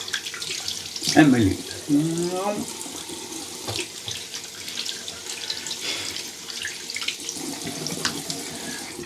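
Water runs steadily from a bathroom tap into a sink during hand washing before a shave, a continuous hiss and splash with fuller splashing near the start, while a person speaks briefly over it.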